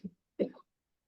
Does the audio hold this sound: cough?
yes